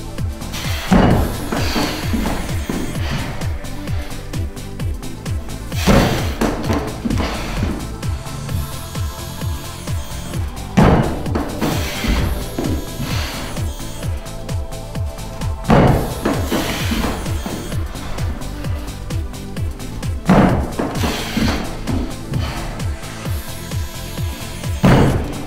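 Loud, heavy thuds repeat at an even pace as someone jumps onto a bench during a home workout, with a brief pause every few seconds and no talking.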